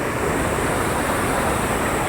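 Water rushes loudly and steadily from Somasila dam on the Penna river, a dense, continuous roar close by with no voices over it.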